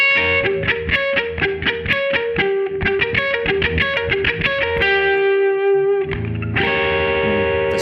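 Electric guitar with effects plays a diminished triad shape across three strings, arpeggiated in quick repeated runs, then let ring before a final strum, loud and close.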